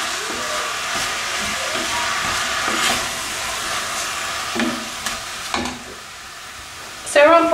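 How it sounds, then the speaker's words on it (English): Beef mince browns in a frying pan over medium heat for a bolognese sauce, giving a continuous sizzle with scraping and stirring knocks. The clattering grows more pronounced toward the end. "Now the idea is we're just going to brown this mince off, so we're not going to cook it thoroughly."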